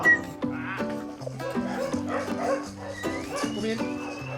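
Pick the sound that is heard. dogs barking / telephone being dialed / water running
dogs barking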